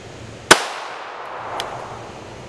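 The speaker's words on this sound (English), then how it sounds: "we're going to shoot with a 9mm out of this Walther P99" A single sharp, loud shot from a 9mm Walther P99 pistol fired into body armor, with a brief ringing decay and a faint later tick.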